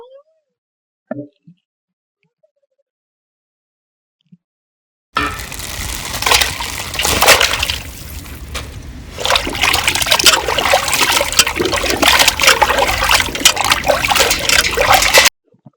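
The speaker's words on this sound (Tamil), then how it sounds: "மூணு கிலோ சிக்கன் எடுத்திருக்கேன் ஃப்ரெண்ட்ஸ் இதை நல்லா வாஷ் பண்ணி எடுத்துடலாம்" Three kilograms of raw chicken with leg pieces are washed, first giving a few faint drips and plops, then a continuous, loud splashing and trickling of water through the second half.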